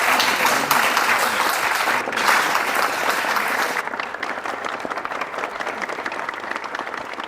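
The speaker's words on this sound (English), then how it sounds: "give our lovely panelists a round of applause" A live audience at a panel discussion claps loudly and continuously, dense applause that fades to lighter, scattered clapping toward the end.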